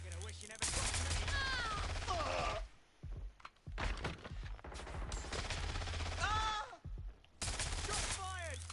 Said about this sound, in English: Shot fired!